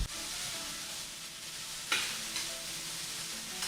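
Liver and onions sizzle and fry in a pan with steady, soft hissing, broken by a brief louder scrape of stirring near the middle.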